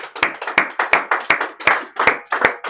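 A church congregation claps in acclaim after a sermon reading, with a steady, even rhythm of about eight crisp claps in quick succession, close and fairly loud.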